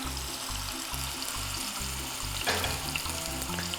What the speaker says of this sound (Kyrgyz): Балыгыбызды эки бетинен тең кызартып кууруп алабыз.